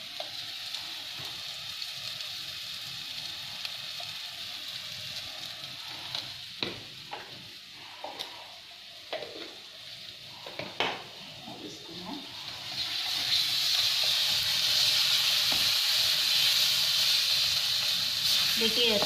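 Spice masala with chili powder frying in a pan, giving a steady sizzle and hiss with occasional stirring clicks, growing louder and more intense in the latter part, while a person talks over it.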